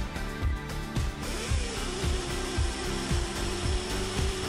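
A Husqvarna T542i XP or 542i XP battery-powered chainsaw cuts through wood, giving a steady whining drone with a rhythmic series of chunky cutting pulses, loud and close, with no talk.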